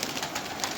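Pigeons at a pigeon keeper's loft, soft continuous cooing and rustling from several birds close by, steady and without speech.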